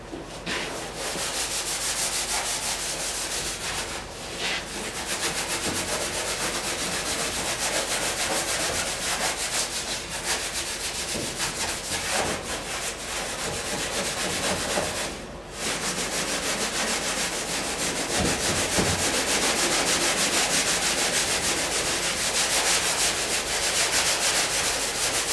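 Steady rasping of sandpaper rubbed back and forth by hand, dry, on a rusty 1959 VW single cab pickup, continuous and close, with a couple of short pauses.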